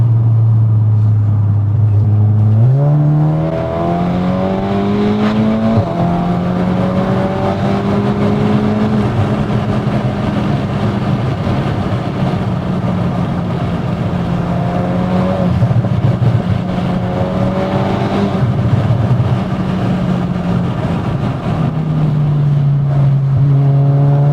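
A loud Stage 3, 500 BHP Mk3 SEAT Leon Cupra R pulls hard, its engine note climbing through the gears with clear rising sweeps and shift breaks, a close, sustained roar throughout.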